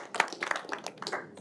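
Scattered audience clapping at a surgical society debate, a handful of separate hand claps spread irregularly across a brief moment, fairly faint and thin rather than a full ovation.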